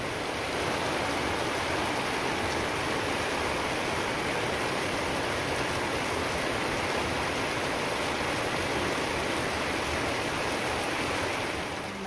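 Heavy rain pouring steadily on a rural yard with chickens and a pig pen, a dense, even hiss that stays loud and unbroken throughout.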